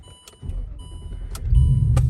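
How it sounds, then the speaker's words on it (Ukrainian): A 2008 Land Rover starting up in a car workshop, a short electric whir and clicks giving way to the engine catching and settling into a steady close idle. "Ну, заводи авто."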